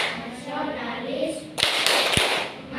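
Children clap in unison for the PPK clapping chant in a classroom, a burst of sharp group claps with a couple of louder accents, after a stretch of murmuring voices and room noise.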